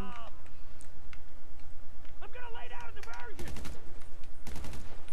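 Special Carbine rifle fire in GTA Online, with sharp bursts of shots standing out from a steady background of game music and effects, two loud volleys near the end.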